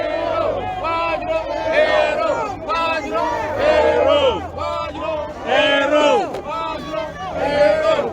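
A compact crowd at a Togolese diaspora rally in Brussels cheers and shouts in loud repeated waves, with rising and falling voices close by.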